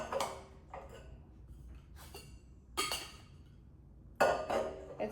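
Plastic or steel kitchen containers brought from India having their lids tested, with a few separated clicks and light clinks as lids snap and loosen, close and fairly quiet with pauses between.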